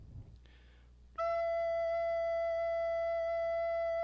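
A soprano recorder sounds a single sustained E, fingered with holes one to five and the thumb hole, a clear steady tone held for about three seconds after a faint breathy lead-in.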